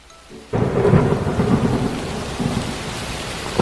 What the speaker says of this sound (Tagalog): mama, umuulan na bigla